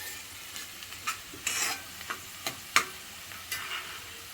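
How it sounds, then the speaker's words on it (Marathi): Onions frying in a pan until soft and pink for a dry ribbon fish curry, a faint low sizzle broken by sharp clinks and scrapes of a stirring spoon. "आता आपला कांदा चांगला गुलाबी झालाय, मऊ झालाय."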